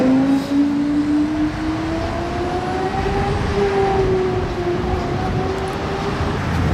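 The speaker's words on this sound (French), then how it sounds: "Wow, le bruit." A Lamborghini Temerario supercar with a V10 engine, delivered in Monaco, gives a steady, rising engine note that climbs slowly in pitch as the car pulls away nearby, over street noise.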